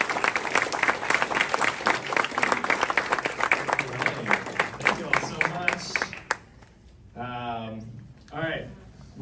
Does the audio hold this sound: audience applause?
yes